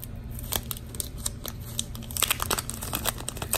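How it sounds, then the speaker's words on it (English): Sticker sheets from a May 2019 Simply Gilded subscription box being handled, giving a steady series of close, crisp crinkling and rustling sounds of paper and plastic with no talking. "And then here we have got the sticker sheets."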